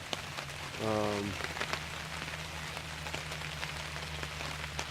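Rain falls steadily on a tent at a busy campground, a constant soft patter with scattered louder drops, and a brief tonal hum rises in the first seconds.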